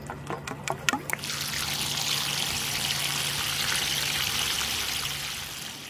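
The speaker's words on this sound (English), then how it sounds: "then we want to flush the line to get any debris out of it" Water flushes out of the open end of a drip irrigation line, a steady hissing, splashing flow after a few short clicks and taps at the start, continuous and fairly close.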